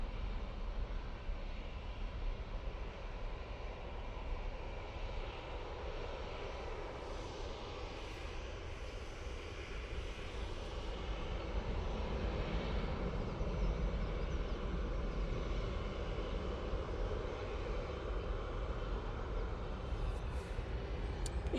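Airliner departing Manchester Airport for Rabat, heard as a faint, steady low engine rumble that carries on unbroken for a long stretch without any voices.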